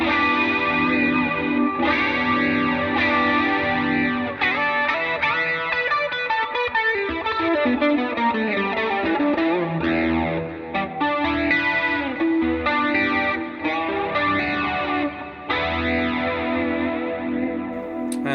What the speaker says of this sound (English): This is a clean sound on the bridge humbucker.